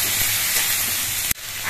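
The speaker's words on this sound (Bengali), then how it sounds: "আর কিছুক্ষণ এই আলু, বেগুন, পেঁয়াজ এগুলো ভেজে নিতে হবে।" Potatoes, eggplant and onion fry in a pan with a steady close-up sizzle and hiss that cuts off abruptly near the end.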